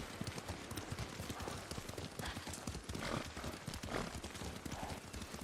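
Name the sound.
horse hooves clip-clopping while riding, Ghost of Tsushima video game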